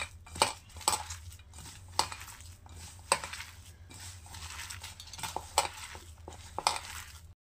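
Gram flour batter for pea fritters being mixed by hand or spoon in a bowl, with irregular scraping, stirring and clinking knocks against the vessel, close and fairly quiet, no talk.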